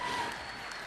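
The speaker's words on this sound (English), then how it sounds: "Come on, they deserve another one." A crowd claps for the Golden Shears world machine shearing finalists in a short, steady burst of faint, continuous applause.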